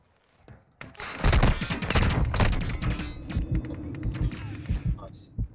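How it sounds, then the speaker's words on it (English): Gunfire in the Modern Warfare 2 DMZ video game, a dense burst of rapid shots and impacts starting after a quiet second, then scattered sharper reports trailing off, with game-world clatter mixed in. "No, I just heard gunshots."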